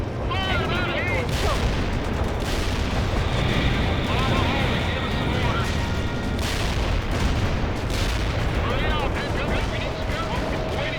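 An M1 Abrams tank firing HEAT rounds in World in Conflict, heavy booming cannon shots and explosions layered over battle noise, with radio-style voices talking across the barrage.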